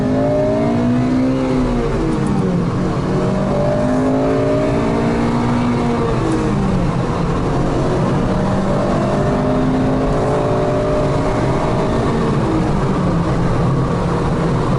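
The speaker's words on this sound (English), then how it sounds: "So let's take this thing on the freeway just to see the acceleration." A 2009 Honda Civic Si sedan accelerates on a freeway, revving up through the gears, pitch climbing and dropping with each shift, a steady loud roar throughout with road noise underneath.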